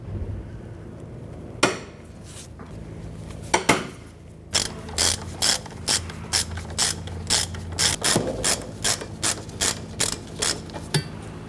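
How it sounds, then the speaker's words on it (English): Breaker bar loosening tight, rusty brake caliper bracket bolts on a 1999-2004 Jeep Grand Cherokee: a few sharp metallic knocks, then a steady run of regular clicking ratchet-like snaps, close and crisp, no talk. "we're using a bar because it's pretty tight and rusty"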